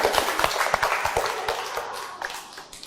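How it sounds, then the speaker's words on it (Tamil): Children in a primary-school maths lesson clap together in a quick burst of scattered, uneven hand claps that fade toward the end. "நல்ல கைத்தட்டிங்கப்பா"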